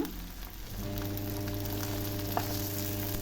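Okra cut into inch-long, angled pieces sizzles steadily in a hot pan as it is sautéed for a roasted-coconut okra and prawn curry, a close, continuous frying hiss with no talking.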